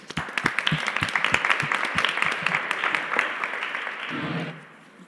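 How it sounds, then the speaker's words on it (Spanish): An audience applauds after a talk at a panel discussion, brisk and fairly close clapping from a modest crowd that holds steady, then tapers off and dies away near the end. "Pero bueno, un aplauso."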